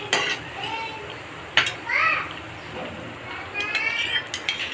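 One-pot pasta being stirred in a cooking pot: scraping and soft clinks of a utensil against the pot in uneven strokes, with faint background voices.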